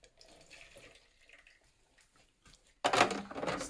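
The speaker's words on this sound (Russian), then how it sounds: "Сливаем с поддона." Water is poured out of a coffee machine's drip tray into a sink after a cleaning cycle. Faint handling noises come first, then a sudden loud splashing pour runs to the end.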